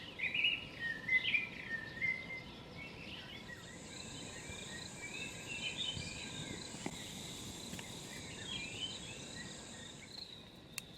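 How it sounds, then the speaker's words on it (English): Birds chirp and trill at a distance at sunset in South Africa over a continuous high insect drone, calm and quiet, with no voices. "the birds are making so much beautiful music for us"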